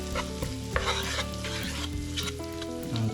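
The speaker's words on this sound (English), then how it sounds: "add in the tomato paste." Tomato paste sizzles and spits in a hot pan for a chicken curry, a steady crackling fry with a few louder pops and stirring scrapes, close and continuous with no talking.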